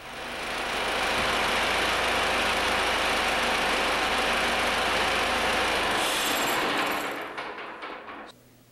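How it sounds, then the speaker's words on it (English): A steady engine drone, controlled by a level transducer controller, runs loudly for several seconds, then ramps down and shuts off, leaving a fading rumble and near silence. "the engine will then ramp down, cool down, and shut down"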